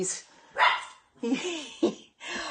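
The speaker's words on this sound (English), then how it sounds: "He's barking at something outside." A small Pomeranian dog indoors barks at something outside, giving several sharp, close yaps in short bursts while people talk nearby.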